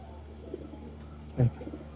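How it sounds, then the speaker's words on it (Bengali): A neighbour's pigeons coo at a home during heavy rain: one short, loud, close coo rises out of a low, steady background hum. "এই যে ওই যে পাশের বাড়ি কবুতর ওই যে"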